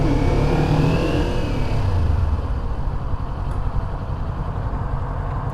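A 2023 Kawasaki Ninja 400 motorcycle engine on a test ride gives a loud, continuous close-up rumble that rises and settles slightly as it revs, with no voices over it.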